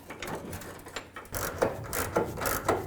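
Close ratchet clicking in quick, rhythmic bursts as fuel tank strap bolts are threaded in on a 1994-2004 Chevy S-10.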